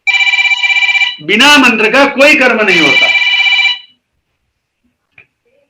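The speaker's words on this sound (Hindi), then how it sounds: "अब ये किसी और के फोन से कनेक्ट किया था और उसमें कॉल आ गया।" An incoming call rings on a mobile phone in a lecture hall, a steady electronic ringtone repeating for several seconds. Someone speaks loudly over the middle of the ring, and the ringing stops partway through the clip.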